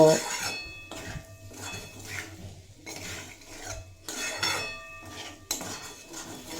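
A spoon scrapes rhythmically against a pan about once a second while stirring potatoes, cauliflower and minced meat with spices, each stroke a close, gritty rasp with metallic clatter, and no speech.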